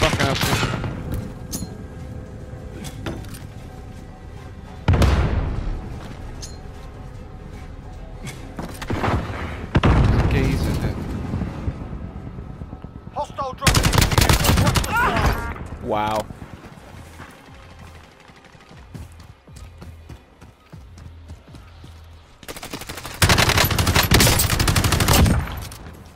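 Bursts of gunfire in the battle royale shooter Warzone come in several loud clusters separated by quieter stretches, with thumps and mechanical clatter between volleys and players talking at times.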